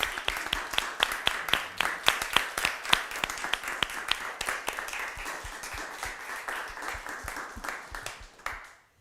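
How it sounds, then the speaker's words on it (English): An audience at a media and democracy forum in Bern claps steadily in dense, sustained applause that stays fairly even throughout, then tapers and fades out at the end. "I think it deserves an applause."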